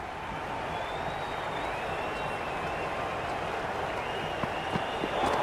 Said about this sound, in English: it's so clear that all these spectators here today completely enthralled and energised, judging by that noise anyway.